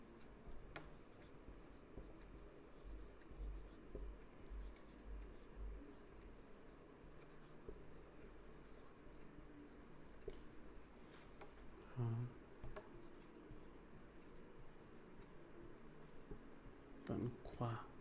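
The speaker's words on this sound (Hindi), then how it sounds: "पहले वर्ड्स लिखता हूँ मैं।" Pen or marker writing words by hand during a classroom lesson, a faint continuous scratching with occasional taps, quiet and close.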